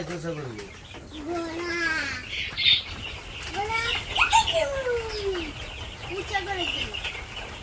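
Young chicks in a village yard cluck and peep repeatedly while eating feed and drinking water, close and fairly clear, with some faint background voices.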